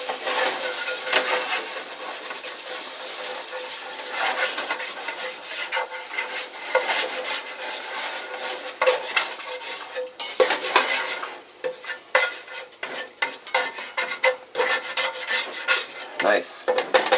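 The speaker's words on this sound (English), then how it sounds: "scrape up all that goodness at the bottom of the pan" A utensil scrapes and stirs across the bottom of a hot pan while chicken fried rice cooks with mushrooms, a loud, close, continuous rasping with a bed of sizzling and irregular harder strokes.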